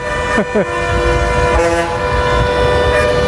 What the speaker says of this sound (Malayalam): ഭയങ്കര ഹോണടി, ബസ് ഇങ്ങനെ ഹോൺ അടിച്ചുകൊണ്ടേ ഇരിക്കുക.